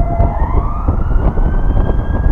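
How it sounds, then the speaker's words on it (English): A police car siren wails loudly and close on a London street, its tone sweeping upward over rumbling traffic and engine noise. "Nice, a police car. And I'm pretty sure they're for us."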